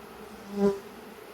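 Honey bees buzz angrily during a mid-August hive inspection, one close bee droning past and swelling in loudness briefly before fading, over a steady background hum.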